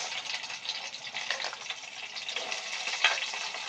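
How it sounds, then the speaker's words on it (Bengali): Onions fry in the oil left from frying paneer for chilli paneer, giving a steady close sizzle with crackling bursts and soft stirring, heard alone with no talk. "যেই তেলে আমরা পনিরটা ভেজে নিয়েছিলাম সেই তেলে আমরা দিয়ে দেব পেঁয়াজ"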